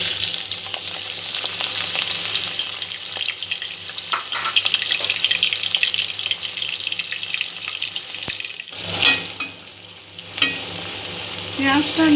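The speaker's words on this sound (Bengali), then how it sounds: "পেঁয়াজটা প্রথমে আমি ভেজে নেব" Two chopped onions frying in white oil in a wok, a loud continuous sizzle and crackle with occasional stirring scrapes and a brief clatter near the end, no talking.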